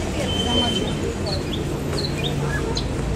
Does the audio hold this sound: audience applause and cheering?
no